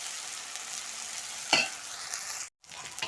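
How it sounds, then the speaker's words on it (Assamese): Ginger, garlic and green chilli paste frying with browned onions for a chicken curry, giving a steady close sizzle with stirring scrapes, one louder burst midway and a brief dropout near the end. "এইখিনি অলপ ভালদৰে ভাজি লওঁ।"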